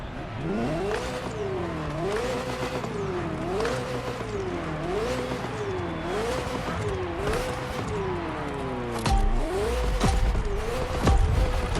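A Ferrari F40 engine in The Crew Motorfest revs in repeated rising and falling sweeps through the gears, loud and close, with a few sharp thumps near the end.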